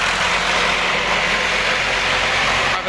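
A Swaraj 745 tractor engine idles steadily and loudly close by at a tractor market in Malout, a constant low rumble with a dense mechanical hum, with no talking.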